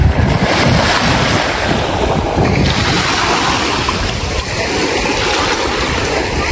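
Lake water washing at the shore of Lagoa dos Patos in Arambaré on a late afternoon, a steady, loud rush of small waves lapping close by, mixed with constant wind buffeting across the microphone.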